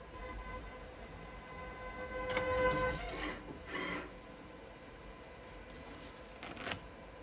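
A Pfaff ultrasonic welder runs at 3 meters a minute, giving a faint mechanical hum with a high steady whine and a few short bursts of rustling, clicking noise partway through, with no voices.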